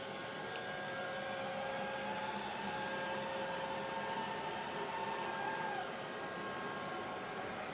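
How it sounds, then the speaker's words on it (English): A Neato D85 robot vacuum cleaner runs steadily over carpet with a constant, close motor whir and broadband suction hiss, a faint tonal whine drifting slightly, no voices. "He's vacuuming back and forth."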